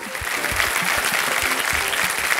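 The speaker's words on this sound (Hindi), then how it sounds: "तालियों के साथ आपका स्वागत।" A studio audience on the KBC quiz show claps loudly and steadily, welcoming contestant Oshin Patwa; the dense applause fills the whole stretch without letting up.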